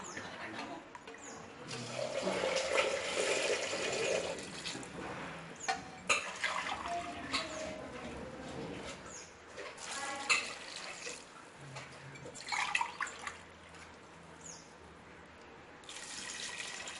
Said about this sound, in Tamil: இப்போ இதில் 4 கிளாஸ் தண்ணி ஊற்ற போகிறேன்.